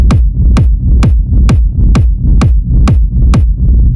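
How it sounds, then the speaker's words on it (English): A raw techno rumble kick drum pounds in a steady four-on-the-floor pulse, eight loud hits with a deep booming low-end tail swelling between each punchy attack, played alone without voices. "So this is a rumble kick."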